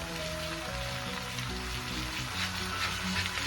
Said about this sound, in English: Fry them all. Add some okra.